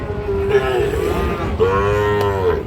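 Sahiwal cattle moo loudly and close by at a cattle market, two long overlapping lowing calls over a low rumble of background noise.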